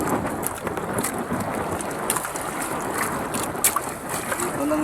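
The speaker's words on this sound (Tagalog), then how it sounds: "Malakas ang hangin." Strong wind buffets the microphone in a constant roaring rush, with water sloshing and splashing around a small boat.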